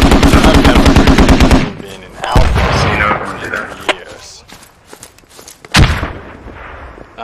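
Automatic gunfire in the military shooter game Squad: a loud rapid burst of close machine-gun fire, then scattered distant shots and a final sharp crack, with some voice chatter mixed in.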